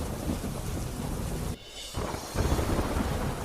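Heavy monsoon rain pours down in a steady, dense roar with thunder rumbling through it, briefly easing for a moment before surging back louder; no voices.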